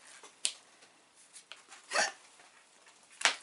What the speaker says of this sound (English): Next we got the hiccups.